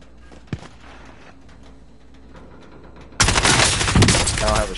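Gunfire in the video game Warzone, one sharp shot early over quiet background, then a sudden loud sustained burst of rapid fire running to the end.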